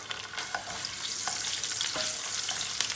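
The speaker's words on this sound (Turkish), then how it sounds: "Şöyle ortalama 2 dakika kadar salçayı bir kavuracağız." Tomato paste cooking with garlic in a hot pan for a potato bulgur dish, a constant close sizzle broken by repeated scraping stirs of a spoon.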